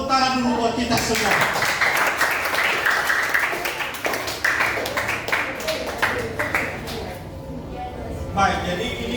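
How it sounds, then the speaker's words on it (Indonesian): An audience applauds at a school talk on positive culture, a burst of dense, loud clapping that holds for several seconds and then thins into scattered claps, with voices heard over it. "Tepuk tangan dulu buat kita semua."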